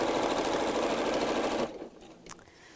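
A sewing machine runs steadily while top stitching a fabric lining, a dense continuous whirring buzz for about a second and a half that stops abruptly, followed by faint handling clicks.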